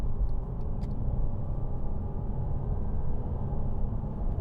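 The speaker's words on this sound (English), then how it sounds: "the torque on this diesel engine is just superb" A 2009 Mercedes-Benz E350 with a 3.0-litre diesel engine drives along with a steady, low, even rumble heard from inside the cabin, with no talk over it.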